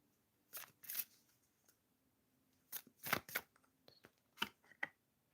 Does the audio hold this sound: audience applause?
no